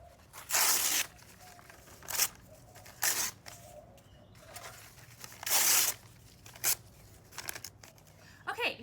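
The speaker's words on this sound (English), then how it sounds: "So I've just got some newspaper here and I'm just going to tear it in strips" Newspaper is torn into strips by hand, several loud ripping bursts of paper spaced irregularly, close up, with quieter rustling and handling between tears.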